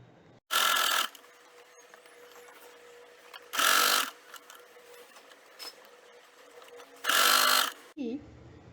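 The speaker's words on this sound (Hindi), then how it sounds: "बिल्कुल as per, folding as per सिलाई करेंगे" A home sewing machine runs in three short bursts, stitching an elastic casing along the folded edge of a puff sleeve, with quiet pauses between runs.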